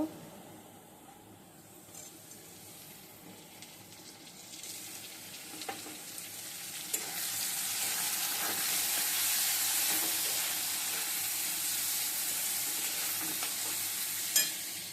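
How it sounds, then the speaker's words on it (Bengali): Chopped tomato added to garlic frying in a pan for chowmein starts as a faint hiss, then swells into a louder, steady sizzle with occasional stirring scrapes, close and continuous. "হালকা ভাজা হয়ে গেছে এখন আমি টমেটোটা দিয়ে দেব"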